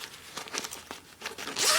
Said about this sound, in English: Fully zipper open.